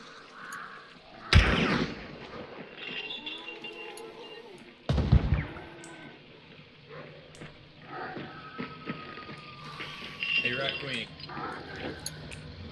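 Gunfire in the game Hunt: Showdown: two sharp, loud shots about three and a half seconds apart, followed by fainter distant pops, while people talk over the gameplay.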